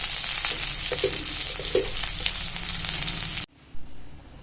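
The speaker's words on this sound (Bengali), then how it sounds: "এখন ডাল সম্বরা দিব, তার জন্য তেল নিয়েছি, জিরা সম্বরা দিয়ে দিব, একটু জিরা, একটু পেঁয়াজ" Cumin seeds and chopped onion sizzle vigorously in hot oil as a tempering for cooked dal, a loud steady frying hiss with small pops, cutting off abruptly near the end into quiet.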